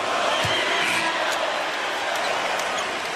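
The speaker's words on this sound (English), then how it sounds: "Listen to the crowd here." A sell-out NBA arena crowd at a Hawks vs Bulls basketball game roars in a loud, continuous wash of cheering and chatter, with scattered whoops and a faint ball bounce near the start.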